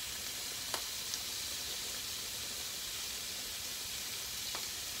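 Sausages sizzling in a frying pan for jambalaya, a steady faint hiss with a couple of small pops and stirring clicks, no voices.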